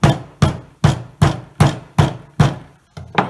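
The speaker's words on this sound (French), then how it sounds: "avec un petit marteau, de casser cet œuf pour découvrir ce qui se trouve à l'intérieur" A small hammer taps a plaster dinosaur egg in eight sharp, evenly spaced knocks, then a closer double strike at the end, each blow loud and close with a short decay and no talking.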